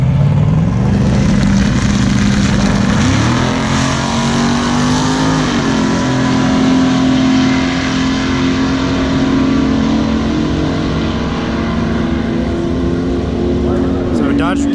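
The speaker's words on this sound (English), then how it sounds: "this is a Dodge Demon" A Dodge Demon accelerates hard down a drag strip, its engine roaring loud and steady with rising pitch through gear changes, heard near and continuous for about fifteen seconds.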